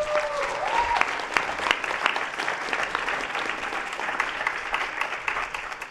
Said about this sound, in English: Can we give her a round of applause while she's here?